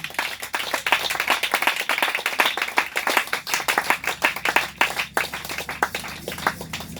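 A church congregation applauds to acclaim the Lord, a dense, continuous wash of many hands clapping for the full stretch, thinning slightly near the end, with no talk over it.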